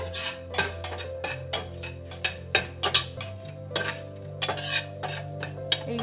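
Marinated eggplant fries in oil with cumin in a pan, a low sizzle under repeated sharp scrapes and clinks of a spatula stirring, set against a steady hum.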